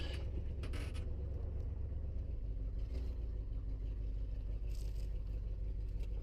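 An old Ford car with no working brakes coasts in neutral, its steady low rumble running throughout with a few scraping rattles, close and continuous, with no talk.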